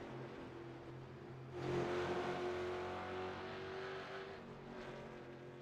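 A Ford Mustang race car engine in a racing video game at Mount Panorama Circuit drones at a distance, then swells into a rising revving pass before holding a steady, fairly quiet hum.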